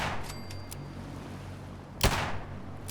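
Gunfire in the video game Fallout 4: a few sharp shots, one louder crack standing out, over a steady low game-ambience hum.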